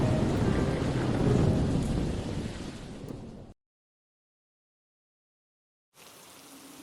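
Heavy rain and thunder of a thunderstorm in an animated story, loud and steady for a few seconds, then cutting to silence before quieter rain resumes.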